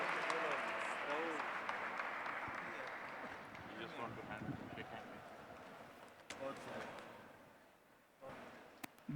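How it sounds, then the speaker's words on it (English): An audience at a G20 Interfaith Forum youth and peace dialogue in Pune, India, claps in a steady wash of applause that slowly fades, with voices over it. "Big round of applause, my dear friends."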